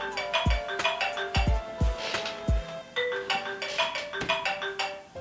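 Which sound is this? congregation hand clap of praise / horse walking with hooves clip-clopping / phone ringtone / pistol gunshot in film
phone ringtone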